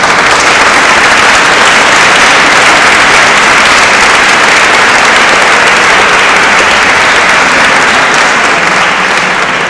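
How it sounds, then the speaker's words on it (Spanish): Loud, sustained applause from a large audience greeting band director Rubén Ortega at a municipal music school band concert, a thick, continuous roar of clapping without letup. "Si quieren pueden dar un aplauso."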